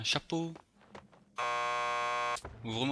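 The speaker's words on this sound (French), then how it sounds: "Just press the buzzer by the door." A door buzzer in Max Payne 2 sounds a steady, harsh electronic tone for about a second, loud and close, with short bits of speech just before and after it.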